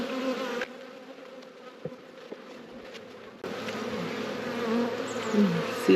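Honeybees buzz steadily as a dense, droning hum, close by, growing fuller and louder partway through.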